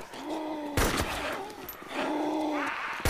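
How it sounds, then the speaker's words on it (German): Two sharp bursts of gunfire in the survival game DayZ crack out over groaning, moaning voices, the shots short and loud against the murmuring background. "Wer schießt denn hier?"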